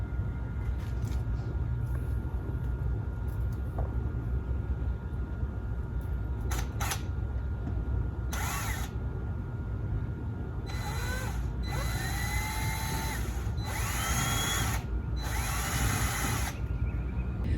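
A power drill drives wood screws to fix a garden trellis to a fence in short whirring bursts, several spaced spurts that grow longer toward the end, over outdoor background noise.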